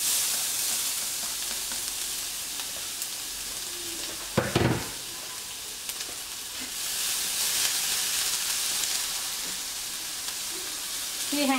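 Minced shallots and garlic frying in a little hot oil, with fish sauce for fried chicken, sizzle in a steady close hiss that runs throughout, with a brief louder clatter midway.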